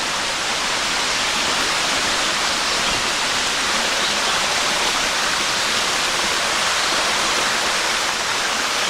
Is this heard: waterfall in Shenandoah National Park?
yes